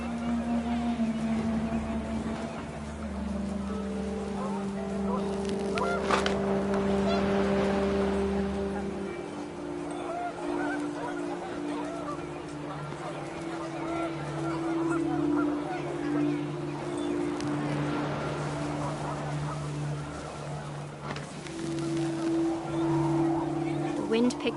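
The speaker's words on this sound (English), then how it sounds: "The wind picked up, and panicked geese appeared and quickly went." Panicked geese honking in the video game What Remains of Edith Finch, several drawn-out tonal honks overlapping across a long stretch beneath a steady rushing wash of wind, moderately loud.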